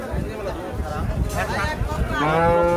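At a crowded Hozrotpur cattle market, a cow gives short lowing calls, one brief moo midway and a stronger sustained one at the end, over constant background chatter and nearby talking.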